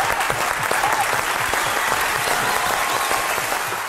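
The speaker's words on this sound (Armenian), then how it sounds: "ուզում եմ ծափարեք բոլորը" An audience applauds at an award ceremony honoring a singer: dense, sustained clapping from a large crowd, steady and loud throughout, with no speech over it.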